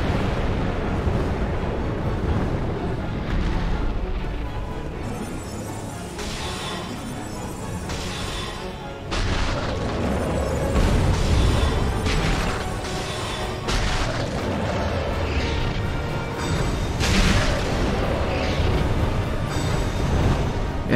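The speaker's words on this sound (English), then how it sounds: "he just flies up and does his fire breath, which I think he's doing now" A dragon boss's fire breath in Dark Souls 2, a sustained loud roaring rumble with booming bursts and crackling swells, continuous and near, with no speech.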